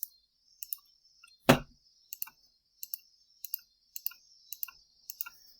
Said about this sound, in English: I'll just type that into my calculator